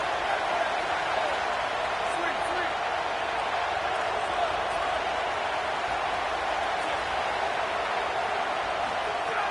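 A dense, steady roar from a stadium crowd in the College Football 27 video game, building during a third-and-goal play in an Oklahoma Sooners game, loud and continuous throughout with no clear breaks.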